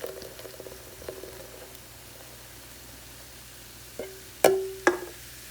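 Soda for a soda cake pours into a bread maker pan with a soft, steady fizzing hiss, followed by a few close clunks near the end.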